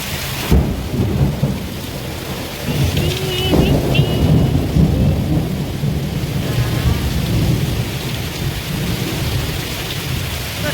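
A heavy downpour drums steadily while deep thunder rolls and rumbles through the storm, loud and close, with no voices over it.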